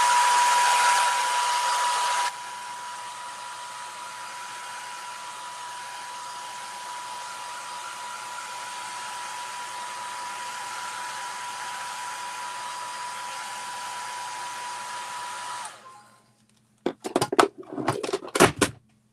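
A hair dryer drying paint blows with a steady whir, dropping to a lower setting after a couple of seconds and running on before switching off, followed by a few clunks.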